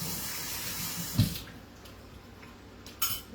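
Water from a kitchen tap runs briefly while something is rinsed off, a soft splashing flow with a couple of louder knocks against the sink, then a quieter trickle.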